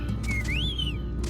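A single rising and falling whistle summons a mount in Final Fantasy XIV, a clear, bright tone heard alone over a low steady background hum.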